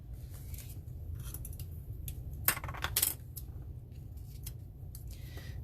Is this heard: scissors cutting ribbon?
yes